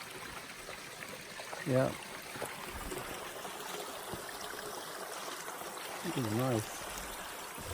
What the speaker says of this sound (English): So, cool little creek right here.